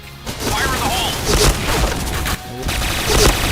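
Explosions and bursts of gunfire from the Point Blank shooter game, a grenade blast among loud continuous in-game combat noise with sharp impacts throughout.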